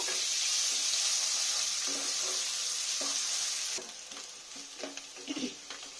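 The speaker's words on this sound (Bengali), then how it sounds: "পেঁয়াজটা একটু লাল লাল করে ভেজে নেব" A whole onion fries in hot oil with a loud, even hiss that drops away midway, followed by quieter sizzling broken by clinks and the scrape of stirring.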